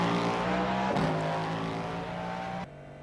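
A Cadillac GTP race car engine in the iRacing video game roars at high revs under load, shifting pitch briefly near the one-second mark, then cuts off abruptly near the end.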